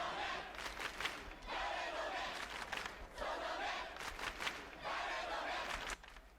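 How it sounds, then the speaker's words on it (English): Crowd chant in the Chaos;Head Noah game: repeated swells of many voices shouting in rhythmic bursts, heard at a distance and fairly faint. "It was like a crowd chant at a soccer or volleyball."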